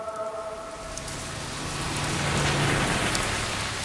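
Steady rain pours down in Boston, a dense wash of patter that swells slightly louder midway, with faint tonal hum early on and no speech.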